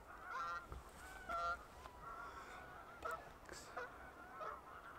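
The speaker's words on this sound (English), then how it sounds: "this goose is just dropping in" Geese honking on a lake as one goose drops in to land, several distinct nasal honks spread out in bursts at moderate distance, fairly faint over quiet outdoor ambience.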